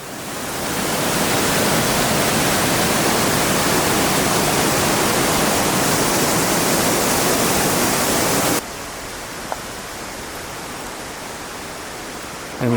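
Steady, loud rush of creek water flowing from Watson Falls in Oregon, heard up close from a footbridge, continuous broadband roar that drops abruptly to a quieter flowing hiss near the end.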